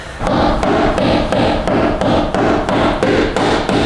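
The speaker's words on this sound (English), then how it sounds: "the other area we are going to hammer in is just this lip up here" Steel hammer blows flattening the sharp lip of a car fender on a first-generation Toyota Sequoia, struck in a steady fast rhythm of about three blows per second, loud and close with metallic ring.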